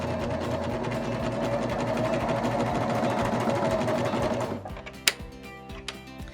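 A Baby Lock Vibrant sewing machine runs a fast, steady flatlock stitch through fabric, an even mechanical whir that stops abruptly near the end, leaving a couple of soft clicks. Nobody talks.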